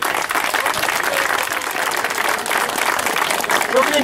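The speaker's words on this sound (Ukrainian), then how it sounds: "я би під ваші оплески хотів подякувати Ігору Курусу" Sustained applause from a sizable audience at a football cup event, steady and loud, with a hint of crowd voices mixed into the clapping.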